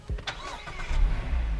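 A Mazda MX-5 Miata starts up close by: a brief starter crank catches and settles into a low, steady idle rumble, with no talking.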